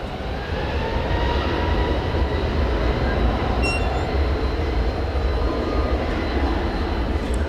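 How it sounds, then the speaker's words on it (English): Airbus A321neo jet engines at DFW Airport, a loud steady roar with broad rumble that holds throughout, heard at night from a plane-spotting position with no talk. "American Flight 2003 going to Seattle is an Airbus A321neo."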